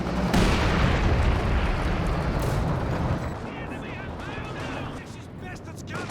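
Nebelwerfer rocket artillery barrage in Company of Heroes 2, a dense, loud rumble of launches and blasts that fills the first three seconds, then settles into softer battlefield noise with scattered whistles and a voice talking over it.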